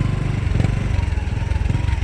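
A struggling motorcycle engine close by, chugging in a rough low rhythm as if about to stall, loud and steady throughout.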